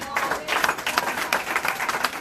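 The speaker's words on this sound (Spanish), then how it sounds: "Dale un aplauso fuerte." A church congregation applauds during a Spanish-language sermon, a moderate burst of dense clapping continuing steadily throughout, with a voice faintly mixed in.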